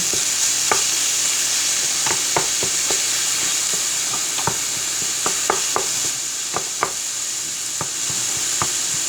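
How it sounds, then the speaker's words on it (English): Ground meat for baked ziti fries in a pan under a constant hiss while a wooden spoon breaks it up, knocking and scraping against the pan in irregular sharp taps. "We're going to break this meat up."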